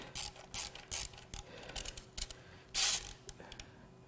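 A hand ratchet turns the crankshaft of a BMW N55 engine on a teardown bench, giving a series of quick metallic clicking bursts in an uneven rhythm, close and fairly quiet, with one louder rasping pull near the end and no talk.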